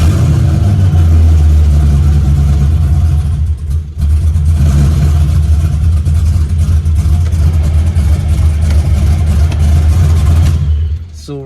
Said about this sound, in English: you start the car up like I'm finna do